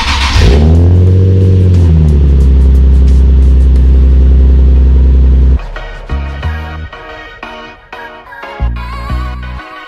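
Nissan 370Z engine cold start: a loud starter whir and catch, then a steady roaring high idle for several seconds, followed by a series of sharp throttle blips and revs, close and unaccompanied by talk.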